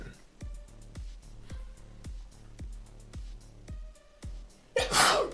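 A single sharp, close sneeze bursts out near the end, after several seconds of a steady rhythmic tapping beat in the background.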